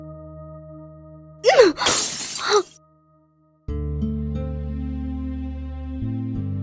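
Glass shatters loudly in a single crash with scattered tinkling shards lasting about a second, set against a low background score. A brief silence follows before music resumes.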